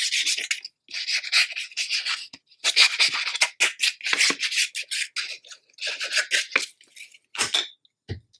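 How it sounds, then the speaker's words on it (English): A tool burnishes tape down on a scrapbook mini album cover, making a run of short, dry rubbing strokes in quick bursts with brief pauses, close and alone. "just burnish it down"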